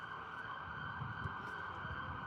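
A police or ambulance siren on a London street, heard faintly and at a distance as a steady wailing tone over low city murmur.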